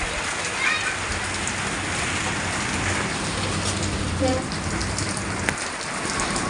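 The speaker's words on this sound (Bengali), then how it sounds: "টিভির চালে বৃষ্টি পড়ার শব্দটা আমার কাছে অসম্ভব ভালো লাগে" Rain drums steadily on a tin roof, a dense continuous patter that holds at an even, fairly loud level throughout, with a few sharper drips standing out.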